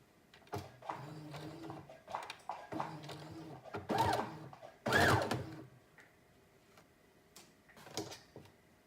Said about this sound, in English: we're gonna sew on the raw edge